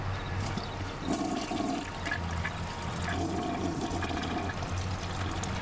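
A toilet flush sound effect from a stream alert gives a loud, rushing gush of water that swirls and drains for several seconds, with repeated surges, close and alone.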